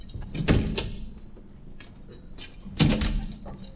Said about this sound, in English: Nothing but clapping doors in this house.